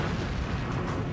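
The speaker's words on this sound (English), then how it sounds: "Bismarck fires her 8 15-inch guns," The battleship Bismarck fires its eight 15-inch guns, a dense, loud, rumbling boom that fills the whole short moment with broadband blast noise.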